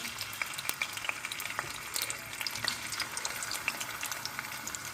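Oil sizzles and crackles steadily, with sharp little pops scattered throughout as garlic and ginger fry in a pan nearby.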